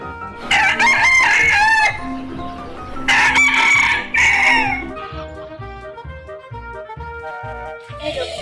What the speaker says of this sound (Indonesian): di sini ada ayam teman-teman